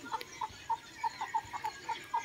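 Farm chickens near young chicks in a rural province setting give a steady run of short clucks, about ten evenly spaced calls over a faint background hum, fairly close and moderately quiet.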